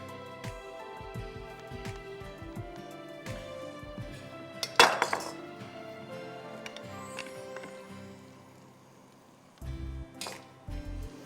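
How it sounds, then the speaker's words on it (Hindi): Soft clinks and metallic taps as fries are lifted from oil into a strainer set over a bowl, with scattered clatter of utensils and a brief louder clatter near the middle, quiet and close. "फ्राइज़ को हमेशा छन्नी में निकालते हैं, नीचे एक बोल रख देते हैं ताकि एक्सेस जो तेल हो वो उसमें निकल आए।"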